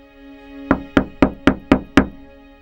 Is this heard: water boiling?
no